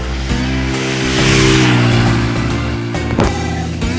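A Honda Wave 110i motorcycle fitted with a KKD titanium exhaust pipe revving loudly up close, a sustained buzzing engine note rising in pitch and then settling, with a few sharp clicks near the end.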